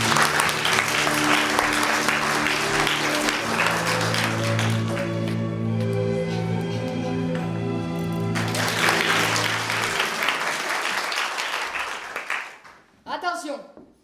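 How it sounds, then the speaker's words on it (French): Audience applause at a Collège Saint Privat school theatre play, broad clapping mixed with a sustained musical tone and voices, fading toward the end before a short burst of speech. "je vous demande d'applaudir Jenny et Stevie."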